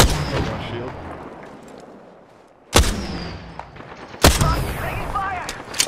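Gunfire in a video game played on PC with a controller: a dense opening burst, then two sharp loud reports a second or so apart, each decaying into rumble and scattered clatter.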